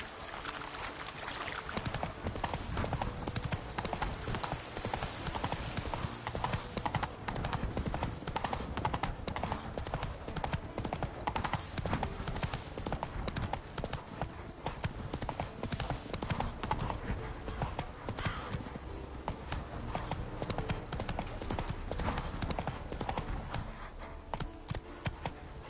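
Roach, the horse in The Witcher 3, gallops in a steady rapid clip-clop of hooves that runs close and loud for the whole stretch, with no voices.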